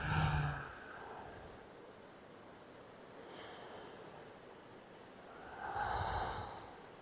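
Slow, deliberate breaths during a gentle floor-based prenatal yoga spine flow: three soft, close breaths come at the start, in the middle and near the end, separated by quiet room tone.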